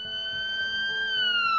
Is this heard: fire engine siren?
yes